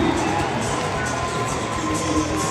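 A small crowd at a show jumping event cheers and shouts in a steady, moderately loud wash of voices that carries on without a break.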